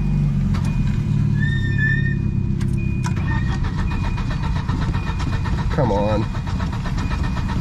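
A Volvo engine with a holed block cranks repeatedly and tries to catch, a loud close whirring churn beneath a brief spoken urging, with a short sputter late on.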